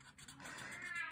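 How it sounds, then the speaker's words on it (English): A pet cat meows in the background, one drawn-out, talkative call rising and wavering over about a second, fairly faint and heard alone without speech. "I don't know if you guys can hear my cat in the background."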